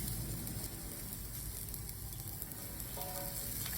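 Garlic sizzles steadily in hot olive oil in a pan, a dense, continuous crackling fry that holds at an even level throughout with no voices.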